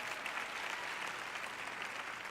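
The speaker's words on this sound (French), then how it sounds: "Une personne ici a applaudi un peu." Light audience clapping in a church sermon hall, a soft, steady patter of hands heard faintly at a distance, with no talking over it.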